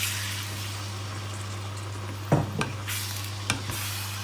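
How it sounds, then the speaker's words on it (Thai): Water poured into a hot cooking pan, sending up a steady sizzle over a low constant hum, broken by a few sharp louder bursts of hissing and clatter near the middle and end. "น้ำลงไปจ้ะ"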